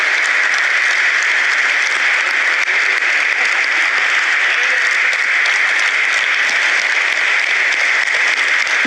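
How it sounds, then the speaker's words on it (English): Sustained, dense applause from a large audience at the IPO listing ceremony of Belrise Industries Ltd on the NSE, a steady loud wash of clapping with no talk over it. "Can we have a thunderous round of applause, ladies and gentlemen, for the man,"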